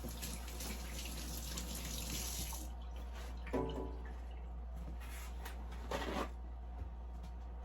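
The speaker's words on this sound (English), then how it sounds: "Now let me wash my hands." Tap water runs into a kitchen sink as hands are washed, a close splashing stream that thins out after a few seconds into softer trickles and splashes over a steady low hum.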